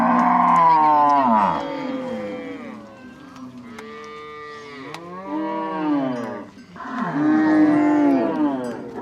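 Several cattle moo loudly and repeatedly near the end of milking, long bellowing calls overlapping one another at close range with no talk.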